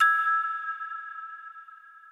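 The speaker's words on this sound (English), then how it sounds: "So I found a really bright plinky sound on this keyboard, put it through that bright floaty reverb" A bright, plinky keyboard tone played through a floaty reverb, sounding as a single clear struck note that rings out and slowly fades over about two seconds.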